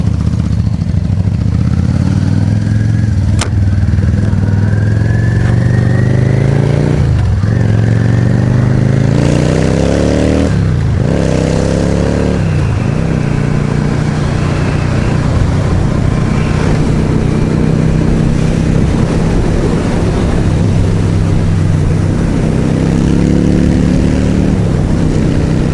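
A Yamaha V Star 650 motorcycle engine drones loudly up close while riding, revving and shifting through rising and falling pitches across the stretch, with wind noise underneath.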